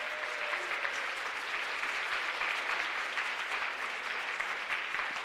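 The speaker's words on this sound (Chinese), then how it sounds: "认同他的告白，请拍手" Wedding guests at a church ceremony break into sustained, even applause after the groom's vows, a steady hiss of many hands clapping at moderate distance with no break.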